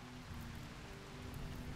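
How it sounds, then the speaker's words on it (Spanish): Rain falls in the colony-building game RimWorld, a soft, steady hiss of raindrops that stays faint and even throughout the short stretch, with no voices. "Llueve y ya."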